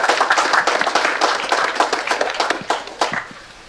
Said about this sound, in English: So let's give a round of applause to all those sponsors.